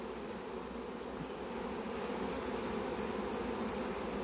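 A huge swarm of honeybees near a hive hums with a dense, continuous drone, steady and fairly soft, with no voices over it.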